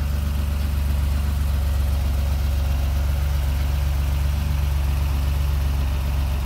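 A 1988 BMW E28 M5 with its M Sport six-cylinder and independent throttle bodies idles steadily, a loud, even low rumble with a fast regular pulse, close by and continuous without any voices.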